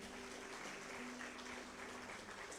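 A church congregation claps together during a Sunday service, a dense, continuous wash of applause that holds at an even level throughout with a faint low hum beneath.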